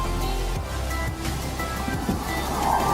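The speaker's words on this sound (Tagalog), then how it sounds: "medyo malakas pa rin ang current ng tubig" The strong current of the Dupinga River in Gabaldon, Nueva Ecija rushes under a bridge, a loud, steady broadband roar of flowing water with no talk over it.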